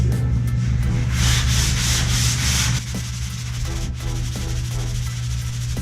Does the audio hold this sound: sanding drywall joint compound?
yes